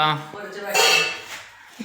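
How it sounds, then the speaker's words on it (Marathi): Metal pots and dishes are taken down during a big house cleaning before a village fair, with a bright metallic clatter and ringing heard briefly while people talk nearby. "झाली का सर्व भांडी खाली काढून"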